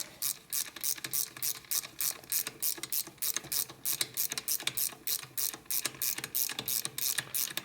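A ratchet socket wrench works on a 2004 Harley-Davidson FLHT 88 cubic inch Twin Cam touring engine, giving rapid rhythmic bursts of clicking pawl strokes. The close, steady back-and-forth cranking repeats throughout with no talk.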